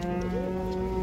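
A cow at a livestock bazaar gives one long, loud, steady moo that lasts the whole second, close to the listener with no talk over it.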